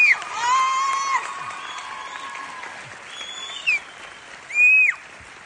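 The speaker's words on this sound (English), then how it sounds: "Ladies and gentlemen, please give them a round of applause." A crowd at a high school graduation ceremony applauds with cheers and whoops, fairly loud at first and then fading, with high whistles and a couple of louder shouts near the end.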